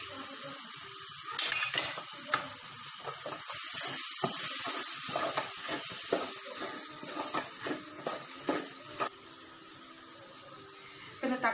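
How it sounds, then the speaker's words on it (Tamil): Tomatoes sautéing in a pan for Chettinad quail gravy, a steady sizzle with a louder hissing burst midway and intermittent stirring scrapes, close by. "இப்போ எடுத்து வச்ச தக்காளி இதில் சேர்த்து வதக்கிக்கலாம்."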